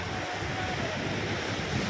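Strong surf at Jumeirah Beach, Dubai, with waves crashing in a steady, loud, continuous roar and heavy wind buffeting the microphone throughout.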